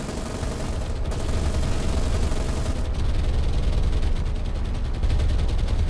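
Aircraft strafe destroyers in the naval combat game War on the Sea, producing a dense, continuous rattle of gunfire with bursts layered over a rumbling background. It stays loud and steady throughout, with no voices.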